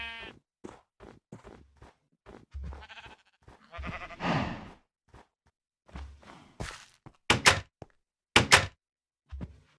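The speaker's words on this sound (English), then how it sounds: "Let's see if we can find any sheep real quick." Sheep bleat in a survival video game, several short separate calls spread between soft footsteps and dull thunks, growing louder and closer toward the end.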